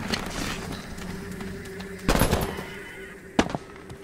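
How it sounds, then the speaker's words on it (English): Combat rifle fire in the video game Earthfall: two short, sharp bursts of gunshots stand out over a steady game ambience, the second louder and crisper. "Hey, it's a combat rifle!"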